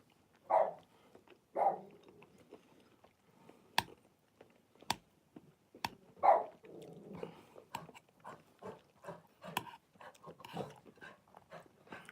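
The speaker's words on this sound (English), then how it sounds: "So the dog's running up and down because he wants to play" Dog running up and down playfully indoors, giving a couple of short barks early on amid scattered footfalls, ticks and sharp clicks, moderately close with no voices.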